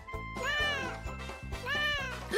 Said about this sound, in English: Our cat says meow